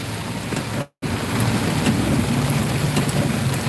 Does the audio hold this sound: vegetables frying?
no